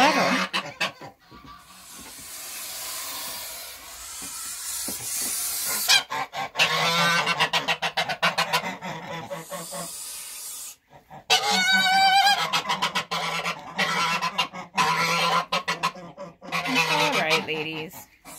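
Farm geese honk loudly and repeatedly near and far, mixed with thin peeping from goslings, in irregular bursts broken by short pauses.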